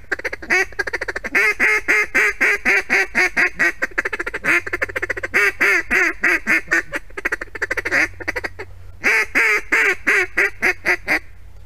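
Rapid, rhythmic duck quacking from a handheld call, series of close, loud quacks imitating a busy flock, with short pauses between bursts.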